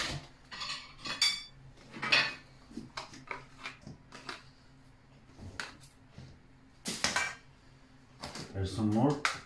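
Spoon clinking and scraping against a mixing bowl while mascarpone cheese is stirred in for a blueberry cheesecake base, with irregular close metallic taps and scrapes between bursts of a person talking.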